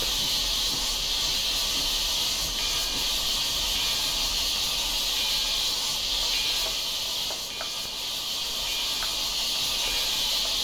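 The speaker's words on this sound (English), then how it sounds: "Cylinder cocks open." Loud, steady steam hiss from the open cylinder cocks of a Frisco T-54 4-8-2 Mountain steam locomotive in Train Simulator Classic, continuous and broadband for the whole stretch with no talk over it.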